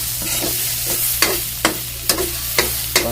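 Fish frying in a pan, with oil crackling in a steady sizzle and a few sharp bursts from stirring or turning the pieces, close by and alone over a low background hum.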